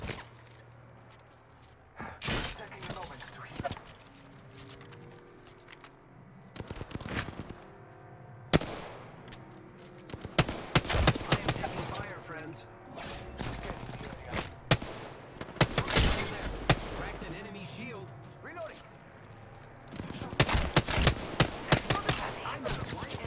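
Gunfire in Apex Legends, with sharp bursts of rapid shots and single cracks coming in irregular clusters, some long sustained volleys, loud and close, with quieter gaps between engagements.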